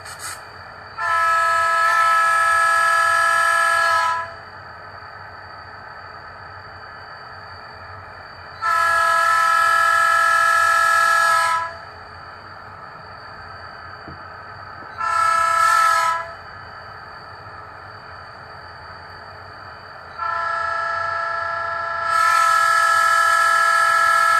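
Four blasts of a three-chime diesel horn from a model Quincy Railroad SW8 locomotive sound decoder, steady chords sounding near and loud, separated by pauses over a low rumbling hum.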